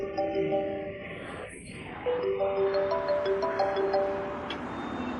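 A home telephone rings in a repeating electronic melody of bright tones, heard at moderate loudness over a dull background.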